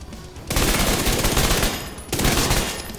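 SMG gunfire in Division 2: two loud, dense automatic bursts, each lasting well over a second, separated by a brief pause, close and without talk.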